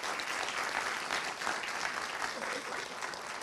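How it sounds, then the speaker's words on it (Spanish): Audience applause at a journalism conference keynote, a dense, even patter of many hands clapping, moderately distant and continuous, with no speech over it. "Un aplauso."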